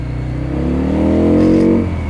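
A nearby Benda Chinchilla 350 motorcycle engine revs up briefly, its pitch rising and falling over a steady idling rumble.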